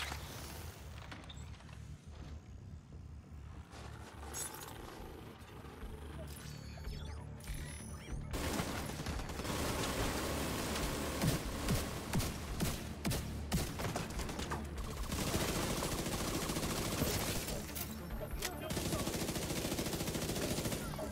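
An ammo stockpile detonates in The Division 2, setting off sustained rapid crackling, gunfire-like bursts that swell and continue loudly from about a third of the way in.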